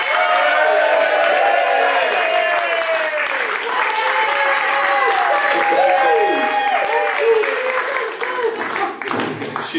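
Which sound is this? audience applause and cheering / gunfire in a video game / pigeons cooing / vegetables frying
audience applause and cheering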